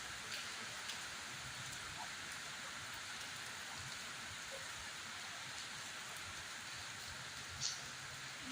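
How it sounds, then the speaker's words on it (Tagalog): A downpour of heavy rain drums constantly on a nearby surface, a thick unbroken hiss with a few sharper drips standing out. "Lumakas ang ulan."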